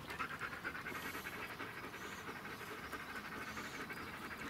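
A dog at a dressage training ground pants steadily and rapidly, close by and soft, with a continuous rhythmic breathing pattern and no talking.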